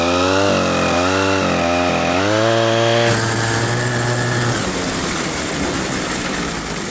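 A chainsaw engine drives a homemade snowmobile sleigh, starting with rhythmic revving pulses that settle into a loud, continuous high-speed buzzing drone. No one speaks.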